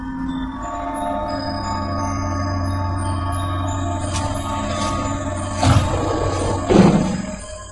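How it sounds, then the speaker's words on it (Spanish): A sabre-toothed tiger sound effect for a documentary on human evolution, a sustained low roaring growl with tonal layers and two louder bursts near the end. "El tigre dientes de sable era uno de los animales que dominaba aquel periodo."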